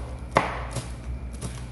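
A knife chops cilantro on a board with a few soft, separate taps. The first tap is the sharpest, the rest are fainter, and the room is otherwise quiet.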